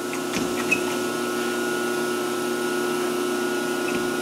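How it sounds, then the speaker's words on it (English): A Maka mortiser machine runs with a steady mechanical hum and whine, one small knock near the start, holding an even level at close range with no speech. "first we're going to turn the machine on here, turn the machine on here."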